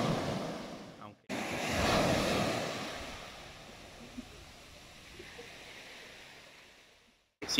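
Surf washing onto a calm, uncrowded beach at Playa Lo de Marcos, Nayarit, a steady broad wash of waves with some wind rumble, swelling then easing, cutting off abruptly at the start and end.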